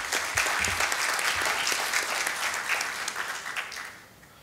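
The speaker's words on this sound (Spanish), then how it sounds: "Recibámoslo con un aplauso." Audience applause welcoming a lawyer speaker at a round-table event on the law governing legal practice in Panama: dense, lively clapping from a crowd, strong and sustained before tapering off at the end.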